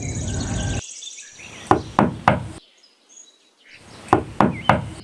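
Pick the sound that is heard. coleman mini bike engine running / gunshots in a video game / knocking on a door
knocking on a door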